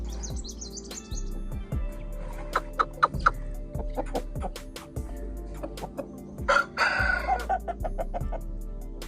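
An Aseel rooster crows and hens cluck in short bursts, with bird chirps and a low repeating hum underneath; no talking.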